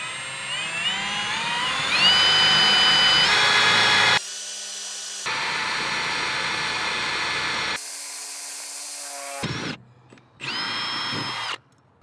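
A power drill bores the last holes for BMW M4 F8x racing pedal mounting, a loud sustained whine with pitch shifts as the bit bites, breaking off into brief pauses and restarts.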